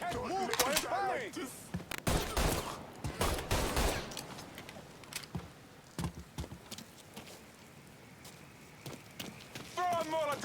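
Gunfire in Mafia III, a video game, breaks out as repeated sharp shots and rapid bursts amid busy game noise, with voices heard over parts of the action, moderately loud throughout.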